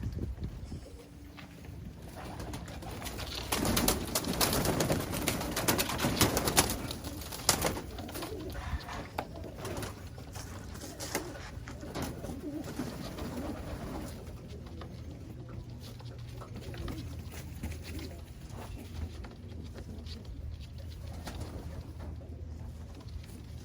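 Pigeons in a racing loft coo softly amid ambient wind and shuffling, a steady low murmur of bird sounds with no talking over most of it.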